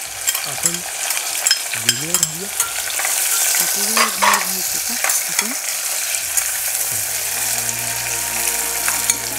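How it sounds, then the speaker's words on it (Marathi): Sliced onion sizzles steadily in hot oil with cashews and green chilli for masale bhaat, stirred with a spoon that scrapes and clinks against the pan; close, fairly loud frying with no talk. "कांदा छान आपण गुलाबी होईपर्यंत परतून घेऊया।"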